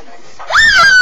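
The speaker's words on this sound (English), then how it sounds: "This is a woman screaming." A woman screams loudly at close range, one sharp rising cry that holds and then trails off, heard alone after a quiet start.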